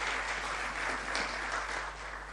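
A church congregation claps together in sustained, even applause that fills the room at steady loudness and eases slightly toward the end.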